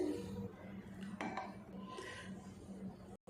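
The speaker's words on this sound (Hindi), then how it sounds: "अब इसको हम साइडों से ऐसे छुरी के साथ थोड़ा सा छुड़वाने के बाद अब हम इसको प्लेट में निकाल लेते हैं।" Metal knife scraping and clinking against a pudding mould and plate while turning out an egg pudding, a few sharp clicks and light scrapes over a low steady hum.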